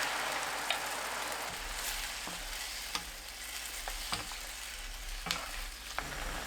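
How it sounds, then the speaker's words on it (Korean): Rice cakes stir-fried in a pan with scallions, fish cake and sauce make a soft, steady sizzle with scattered light clicks of a spoon or spatula, fairly quiet and with no voices. "파, 어묵, 양념 넣고 섞어주세요."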